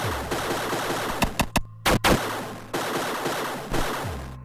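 Video-game gunfire in a shooter with infinite ammo and many spawning enemies: dense, sustained rapid fire punctuated by several sharp, louder shot bursts, close and loud with no talking.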